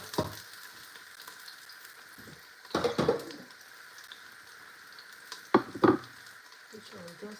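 Chopped onions frying in pumpkin oil in a home kitchen pan, a steady soft sizzle with a few louder bursts of crackling and stirring scrapes, no talk over it.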